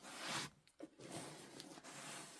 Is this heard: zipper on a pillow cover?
yes